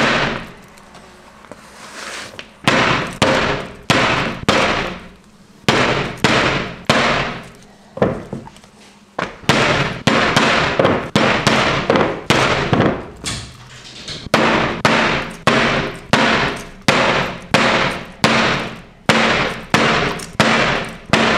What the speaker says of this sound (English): as you can see, I've punched all of the stitching holes